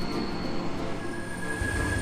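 Fast freight train carrying 40-foot containers on a Tasmanian railway line, a steady rumbling roar with high squealing wheel tones that grow stronger as it approaches, no voices.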